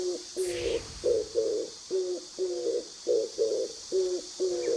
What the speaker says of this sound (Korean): 비둘기인데요